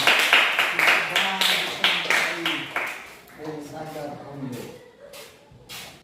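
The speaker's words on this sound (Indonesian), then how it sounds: "Oke, tepuk tangan" Hands clap in a quick run of sharp, evenly spaced claps near the listener during a storytelling lesson, then stop as a voice starts talking.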